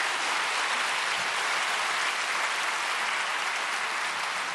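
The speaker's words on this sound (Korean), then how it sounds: "뜨거운 박수로 잠이 확 달아나도록 그렇게 하겠습니다." An audience claps in a steady, dense wash of applause that holds at an even level throughout, with no voices over it.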